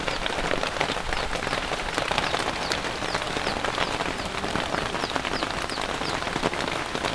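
Steady rain falls on a coconut plantation while a man climbs a coconut tree, a dense, even patter of drops on leaves and surfaces that continues unbroken and fairly close.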